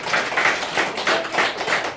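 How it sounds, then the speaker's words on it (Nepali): A church congregation claps together in thanks to the Lord, a steady dense wash of applause with rhythmic surges roughly every third of a second, loud and close, with no one speaking. "ताली लाएर धन्यवाद गर्छौँ प्रभुलाई"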